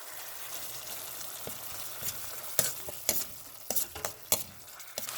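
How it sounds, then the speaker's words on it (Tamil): Ivy gourd sautéed with turmeric powder in a pan makes a soft, steady sizzle under a run of sharp spoon scrapes and clicks in the second half, with no talking. "போட்டு நல்லா மஞ்சள் வாசனை போக மட்டும் வதக்கி விடுவோம்"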